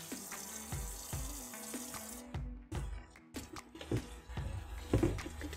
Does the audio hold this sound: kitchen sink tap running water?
yes